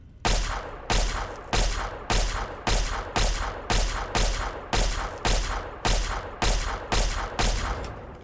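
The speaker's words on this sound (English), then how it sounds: "Can I shoot the turret, I wonder?" Gunfire at a turret in Fallout 3: a rapid regular series of about fourteen loud sharp shots, evenly spaced, each with a short decaying tail, no speech.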